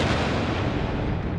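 A snow-covered Mount Paektu erupts in a continuous, dense, thunderous roar that stays loud and unbroken throughout, like a deep rumbling blast with no pauses.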